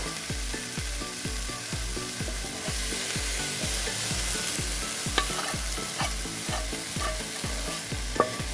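Vegetables including capsicum being stirred and tossed in a hot pan over high flame, a loud continuous sizzle broken by a regular rhythm of scraping strokes, close and with no voices.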